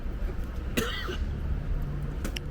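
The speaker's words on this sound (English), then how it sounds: "I was trying to cough that phlegm" A single wet, throaty cough rings out near the start amid a low rumbling background, followed by faint scattered noises.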